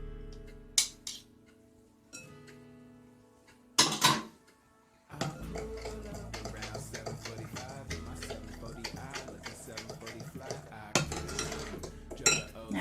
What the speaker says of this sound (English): And then we mix that together.